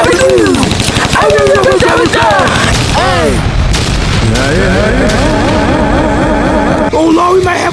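Rapid gunfire bursts in the shooter video game Gun Fight, loud and continuous alongside game effects and music, with a player talking over the action.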